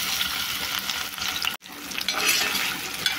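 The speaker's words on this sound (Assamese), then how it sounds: "এই আলুটো অলপ ভজা হৈ গৈছে" Potato pieces sizzle steadily in hot mustard oil with cumin and chilli in a village kitchen, a loud close hiss cut by one brief break, with stirring and no voices.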